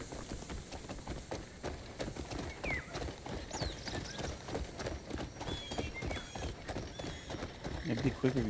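A horse's hooves clip-clop in a quick, even rhythm through the Crimson Desert game world, close and steady, with faint character voices and ambient game sounds underneath.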